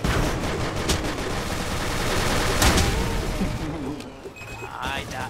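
Rapid gunfire fills an Ace of Spades voxel shooter match, with continuous loud shots and game noise running under excited player voices before it thins out near the end.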